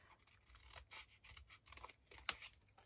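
Scissors snip through folded card while a pop-up card is being made, a series of quiet, close crisp cuts in a loose rhythm, ending with a sharper final snip, no speech.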